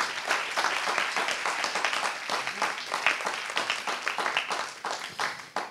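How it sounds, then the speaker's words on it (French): An audience at a round-table event applauds Elisabeth Nouar: dense clapping from many people, close and steady for several seconds, then thinning out toward the end. "On peut l'applaudir."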